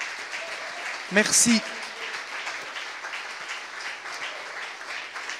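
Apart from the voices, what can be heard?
church congregation applauding the multimedia team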